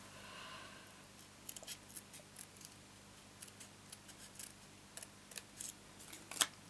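Crisp paper-snips cutting through cardstock paper, a series of separate close clicks at uneven intervals, ending with a sharper final snip.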